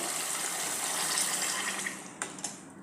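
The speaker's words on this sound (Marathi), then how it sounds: "आता याच्यामध्ये आपण साधंच पाणी घालायचं." Plain water pours steadily in a continuous gushing stream into a cooking pan of sautéed dal and potato, then tapers off, followed by a couple of light clinks.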